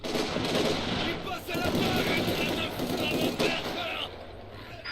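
Heavy machine gun fire in a real-time strategy video game, dense rapid bursts crackling loudly and almost continuously with battle noise layered around them.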